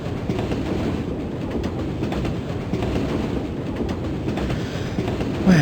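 A train runs steadily along the rails in a radio drama, with a continuous rumbling roll and a faint rhythmic clickety-clack that stays even throughout, with no voices over it.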